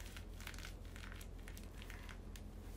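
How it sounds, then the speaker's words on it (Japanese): Plastic crinkles like a bag as a tissue hiding a wrapped candy is handled, a run of close, sharp rustling and crushing bursts over a low steady hum. "なんか袋のような音がしますね。"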